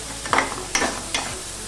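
Paneer pieces are stirred into fried rice frying in a pan, three distinct scraping strokes of a spatula spaced evenly over a soft constant sizzle, close and clear without any talking.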